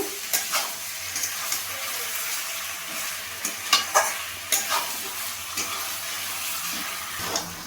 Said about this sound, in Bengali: মশলার সাথে চিকেনটা ভালোভাবে কষিয়ে নেব।